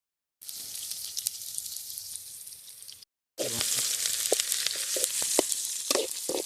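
Onions sautéing in oil until golden for a quail gravy, a steady bright sizzle broken by a short gap, then louder crackling with sharp spatters and pops.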